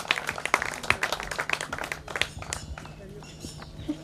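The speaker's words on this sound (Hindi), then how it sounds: "जोरदार तालियां" Scattered, uneven clapping from an audience at a kayaking and canoeing association ceremony by a lake, with voices talking over it and the claps thinning out toward the end.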